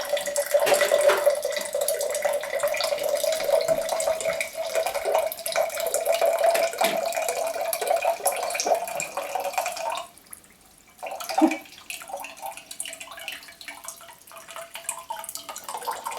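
Tap water runs steadily into a Zero Water filter pitcher jar, a bright, continuous splashing stream for about ten seconds that briefly cuts off, then returns as a lighter trickle with a few drips.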